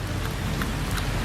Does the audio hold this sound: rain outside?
yes